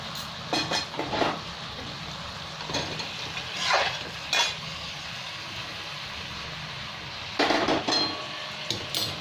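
Fried vegetables and peas are tipped into a pot of hot oil for Bengali khichudi, giving a steady sizzle broken by several sharp clatters and scrapes of a spoon against metal, close by and with no speech.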